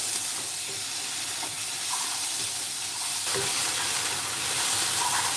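Vegetarian noodles stir-fried with dark soy sauce hiss and sizzle steadily in a hot pan, a continuous close frying crackle with faint clinks of stirring, no voices.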